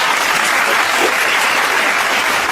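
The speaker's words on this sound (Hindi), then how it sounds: "जोरदार तालियां लगाइए।" A school audience applauds the first-place winner of a quiz contest: loud, dense, continuous clapping that holds steady throughout with no voices.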